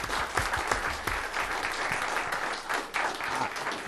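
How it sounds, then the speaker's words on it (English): Audience applause for a foreign minister at a freedom lecture: steady, dense clapping from a sizable crowd, continuous and fairly close, with no speech over it. "Let's give Foreign Minister Kubiš a round of applause."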